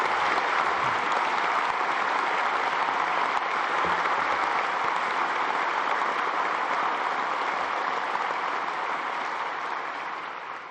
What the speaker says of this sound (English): I would appreciate a round of applause for all of them.